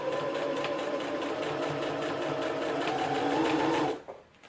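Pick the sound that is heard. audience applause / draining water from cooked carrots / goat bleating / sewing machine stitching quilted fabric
sewing machine stitching quilted fabric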